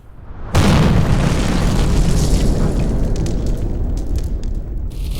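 A sudden enormous nuclear bomb blast, the Trinity Test, starts abruptly, then rolls on as a long, loud, unbroken rumbling roar.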